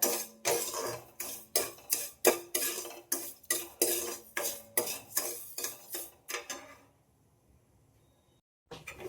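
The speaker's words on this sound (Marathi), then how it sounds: "पूर्ण साखर विरघळून घेते, ब्राऊन होईपर्यंत हलवत राहते." A utensil scraping and knocking around a pan as sugar is stirred until brown, a brisk regular series of metallic strokes that slows and stops, followed by quiet and a final clatter.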